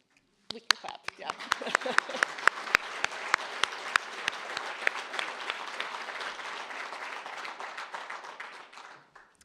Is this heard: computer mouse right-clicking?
no